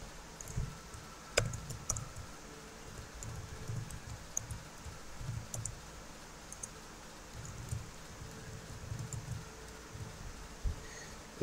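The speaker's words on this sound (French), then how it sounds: "Et donc je tape le mot de passe en question." Password typed on a computer keyboard, a quiet sequence of irregular light key clicks with a few sharper taps, close by and alone over faint room noise.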